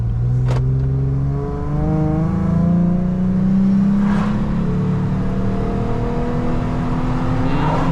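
Lifted Jeep Gladiator engine pulling a trailer, droning loud and steady with rising then shifting harmonic tones as it revs through the gears, close inside the cab.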